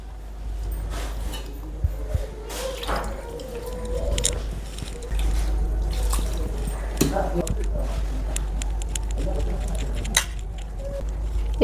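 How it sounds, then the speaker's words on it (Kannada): Bachgula fish being mixed by hand with a little water in a village kitchen, giving soft wet squelching and patting sounds over a low steady hum, with faint voices in the background. "ಈ ಥರ ಸ್ವಲ್ಪ ನೀರು ಹಾಕ್ಕೊಂಡು ಚೆನ್ನಾಗಿ ಮಿಕ್ಸ್ ಮಾಡ್ಕೊಬೇಕು ಕೈಯಲ್ಲೇ"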